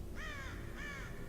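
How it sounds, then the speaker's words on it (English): Two harsh crow caws ring out in The Cursed Forest video game, each a drawn-out raspy call, evenly spaced and clear over a steady low background hum. "Evil crows mean murder and death and omens when you cross their path"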